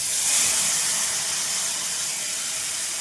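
Spice paste of cumin, chilli, turmeric, ginger and salt mixed with water hisses and sizzles steadily in a hot pan for a Bengali potol katla dish, a close, continuous steam hiss with a brief sharper burst at the end.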